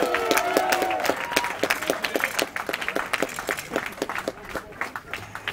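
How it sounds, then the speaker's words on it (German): Audience at a football club stage event claps loudly, with individual hand claps standing out, thinning toward the end as voices are heard. "kriegt erstmal einen Applaus"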